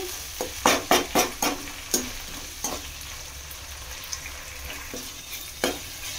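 Tomatoes, onions and curry leaves frying in oil for a raw banana curry, a gentle sizzle with a burst of spatula scrapes early on, then occasional stirs.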